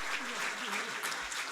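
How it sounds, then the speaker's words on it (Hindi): Steady applause from an audience at a felicitation ceremony for Asian Games medal winners, greeting a kabaddi gold medalist, a dense continuous patter with a voice speaking over it. "जोरदार तालियां बजती रहें।"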